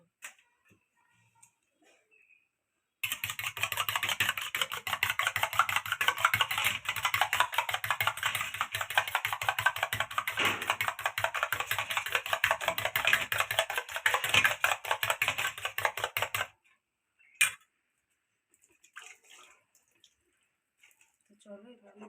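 Eggs beaten briskly in a bowl with a fork or whisk, a fast steady run of light clicking strokes lasting about thirteen seconds, close and fairly loud, followed by a single knock.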